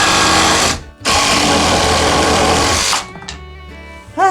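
A reciprocating saw cuts through old reclaimed wood, a loud, close buzzing roar that runs for a second, stops briefly, then runs for two more seconds before dying away with a few quieter rattles.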